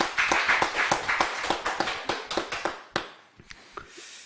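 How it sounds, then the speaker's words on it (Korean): A church congregation at a Sunday afternoon worship service claps, loud and close, in a ragged burst of sharp claps that thins to a few scattered ones after about three seconds. "우리 하나님께 큰 영광의 박수 한번 올려드리겠습니다."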